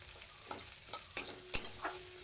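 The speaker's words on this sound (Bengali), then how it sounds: "আমি ভাজা বসিয়ে দিলাম পেঁয়াজটা হালকা ভেজে" Onion frying lightly in oil in a pan, a faint soft sizzle with a few quiet stirring scrapes and taps; no voices.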